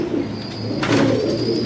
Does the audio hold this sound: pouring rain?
no